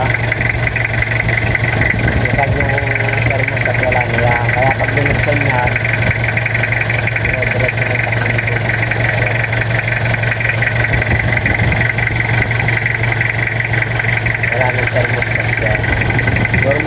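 A diesel car engine idles steadily with the radiator cap open, a loud continuous mid-pitched drone with a faint knocking rhythm, while someone talks over it throughout.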